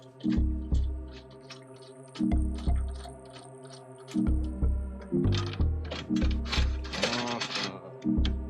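Mount bolts being tightened on Maxtrax recovery boards fixed to a Prinsu cab rack on a Toyota Tacoma, giving close ratcheting clicks in short repeated bursts with brief pauses between them.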